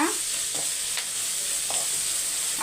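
Food frying in a pan as it is stirred and mixed, a steady sizzle with a few distinct spoon scrapes spaced about half a second apart.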